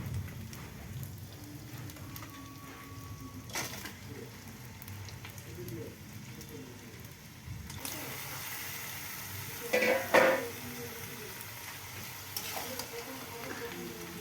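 Chunks of duck meat tip into a hot pan for a winter duck curry, and a loud, close sizzle of frying surges up midway and keeps crackling like heavy rain, with brief clatters of stirring on top.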